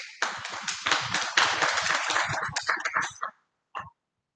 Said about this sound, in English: him a round of applause before I leave here?